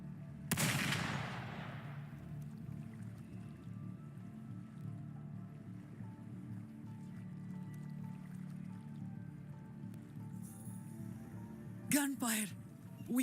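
Gunfire in the video game Wuthering Waves: a loud burst opens over low game ambience, then sharp, rapid shots crackle near the end.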